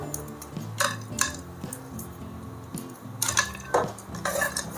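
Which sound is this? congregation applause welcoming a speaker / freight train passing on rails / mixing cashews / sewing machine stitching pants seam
mixing cashews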